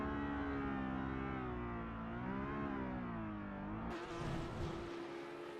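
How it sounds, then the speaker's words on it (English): A V8 Supercar performs victory burnouts after a race win, its engine holding a steady, loud, sustained rev that wavers slightly in pitch, then shifts abruptly near the end to a rougher, noisier roar with tyre-like hiss. "Got some well-deserved victory burnouts going"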